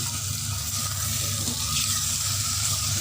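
Beef masala fries in a pot with a soft, continuous sizzle and hiss, a low steady bubbling underneath, fairly quiet and close, with no voices.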